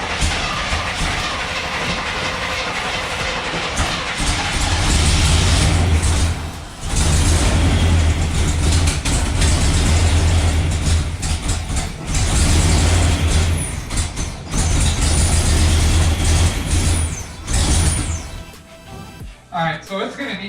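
A loud, rough car engine with a bad exhaust manifold leak runs continuously with heavy rumbling and rattling, revving unevenly, while people talk over it.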